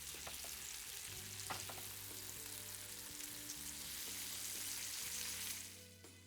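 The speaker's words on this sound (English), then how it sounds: "After your oil is hot, add the meatballs." Plant-based Beyond Meatballs fry in hot oil in a pan, giving a loud, steady hiss with a few light clinks and a low hum underneath, fading slightly at the end.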